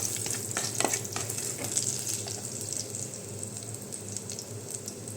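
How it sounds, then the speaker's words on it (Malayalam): Mustard seeds and chilies sizzle and crackle in hot oil while making rasam, with scattered sharp pops and a scraping stir throughout. "കടുകും മുളകൊക്കെ വറുത്തതിന് ശേഷം"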